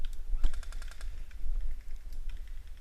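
Airsoft guns fire covering fire during an outdoor match, a quick series of sharp, light clicking shots in bursts, moderately distant and fairly faint over a low background.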